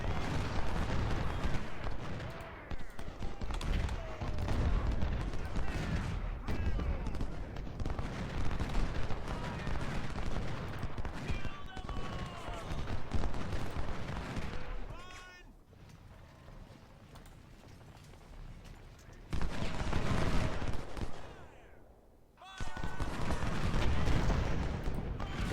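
Musket volleys and cannon fire, including 24-pounder guns, rumble through a Civil War battle at Iuka in Ultimate General: Civil War. The dense, continuous crackle and booms ease off briefly a few times before surging back.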